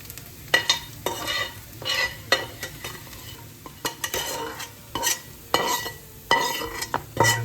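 Fried onions being stirred into dosa batter for soft Jaffna-style dosa, a steady run of close, wet scraping and slapping strokes with a spoon against the bowl, fairly loud with a few light clinks.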